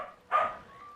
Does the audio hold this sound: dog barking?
yes